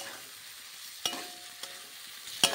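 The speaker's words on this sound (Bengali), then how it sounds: "টমেটো দিয়ে দিচ্ছি। এরপর ভালো করে নাড়িয়ে নেব।" Tomato being stirred into fried masala in a pan for a quick vegetarian papaya and Gobindobhog rice dish, a soft steady sizzle broken by a few sharp spoon scrapes and clinks against the pan.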